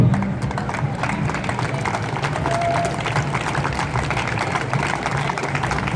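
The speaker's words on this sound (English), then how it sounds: "Please do clap again for a big welcome." An audience at an anti-austerity rally claps steadily for an incoming speaker. The dense, even patter of many hands runs at a constant level throughout, with a faint murmur underneath.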